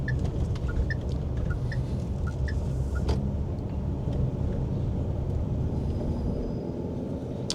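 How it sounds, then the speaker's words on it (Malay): Inside a Jetour Dashing SUV cruising on a highway, a steady low engine and road rumble with tyre noise and a few faint short beeps early on, with no talk. "Engine ni agak sangat lancar."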